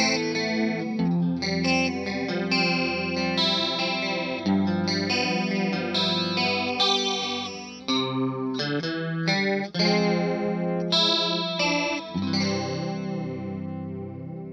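Electric guitar chords ring out through a TC Electronic SCF Gold chorus pedal at full intensity, the deep, heavily swirling wavering shimmer strong and constant as the notes change.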